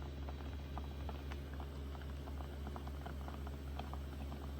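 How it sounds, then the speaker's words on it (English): Water and extra virgin olive oil just starting to bubble in a heated pot, a soft steady simmer with scattered small pops and crackles over a constant low hum, no voices. "when you heat up the pot a little bit, you'll already see that it'll start to bubble"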